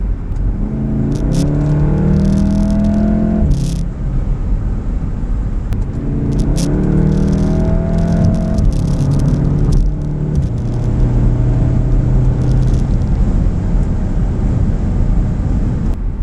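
A Volkswagen Golf R with a Eurodyne Stage 1.5 tune pulls hard through the gears, engine rumble rising in pitch repeatedly with brief shift breaks, loud and steady from inside the car.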